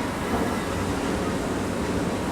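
A Boston MBTA Orange Line subway train at Assembly Square station gives a steady, loud, broadband roar and rumble throughout, with no distinct breaks and no talk.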